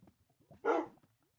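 A dog gives one loud, short bark close by, standing out against a quiet indoor room with faint sounds around it.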